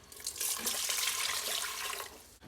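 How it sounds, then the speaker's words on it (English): Chicken broth poured from close range into a cooking pot for a soup, a soft continuous splashing stream lasting about two seconds, fairly quiet and with no talk. "we are going to add 6 cups of chicken broth"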